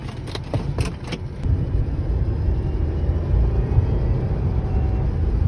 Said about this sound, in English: Oh, you hear that supercharger whine, boy.